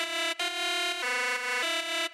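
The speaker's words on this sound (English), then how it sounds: "It's some type of digital sound, really distorted." A harsh, gritty digital FM synth plays a few sustained notes that step between pitches, with short gaps between them, loud and alone.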